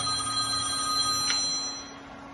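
A telephone ringing at a car show, steady electronic ring tones with a brief louder burst, at moderate level with no talk.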